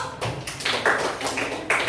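A small class group gives uneven, scattered clapping for classmates who have just presented, close and irregular, with bursts rising and dipping rather than settling into a steady rhythm.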